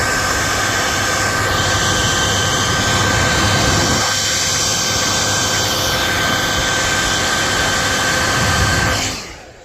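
A heat gun warms old glue residue, giving a loud, steady blowing roar that runs close and continuous for most of the clip before cutting off abruptly near the end.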